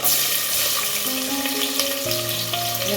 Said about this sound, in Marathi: आता हे सगळं मी एवढी भाजून घेणार आहे चांगली फोडणी